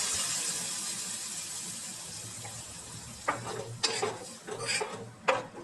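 Thick coconut masala being poured and stirred into a Tirunelveli-style fish curry, with soft scraping and clinks of a spoon against the pot building in the latter half over a steady background hiss.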